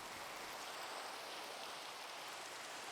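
Steady rainfall in the video game Minecraft, a dense, even hiss of falling drops that holds at a constant level throughout with no voices.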